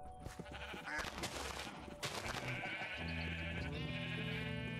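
Several sheep in Minecraft let out long, wavering bleats one after another, near and clear against a busy in-game background, with nobody speaking.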